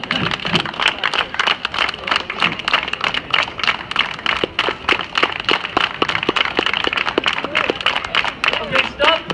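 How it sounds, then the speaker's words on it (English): A group claps together at a faster tempo, steady sharp hits running under lively crowd voices and chatter. "let's clap a little bit faster."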